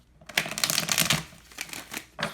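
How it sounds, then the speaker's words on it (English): A deck of tarot cards, with hands dusted in baby powder, being shuffled in a run of dense riffling and slapping bursts that are close and fairly loud, then a brief pause before a final burst. "I have to put like baby powder on my hands to shuffle the deck, or else the cards get all stuck"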